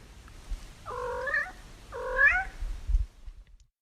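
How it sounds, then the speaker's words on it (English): Cats meowing in an Italian village, two drawn-out wavering meows about a second apart, fairly close, over faint low background rumble with no talk. "And there's the cats."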